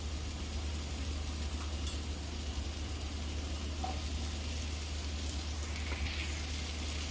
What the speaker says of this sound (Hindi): इसमें मैं भिंडी डाल रही हूँ।